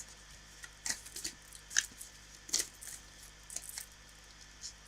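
A deck of tarot cards is shuffled by hand, giving a few quiet, separate riffling flicks spaced through a faint, hushed room.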